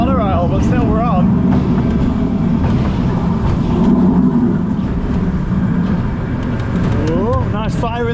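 An indoor amusement ride at a mall rattles and rumbles continuously at close range, loud and steady, while a monorail runs nearby and people talk over the noise throughout.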